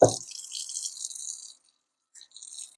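A cutting board rinsed under a kitchen tap: a short splash and hiss of running water for about a second and a half, then silence, then a brief second trickle near the end.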